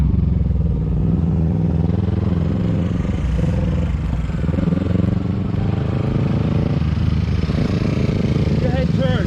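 A motorcycle engine drones steadily at an even throttle while cornering during parking-lot riding practice, a close, continuous hum that stays level throughout, with a person talking over it.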